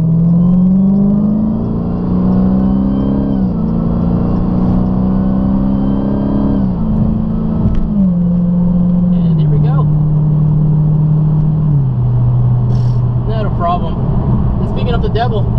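A 2018 Dodge Challenger SRT Hellcat with 707 horsepower accelerates hard onto a freeway, its engine climbing loudly through several gear shifts in a near, continuous roar while someone talks.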